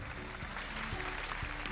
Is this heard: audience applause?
yes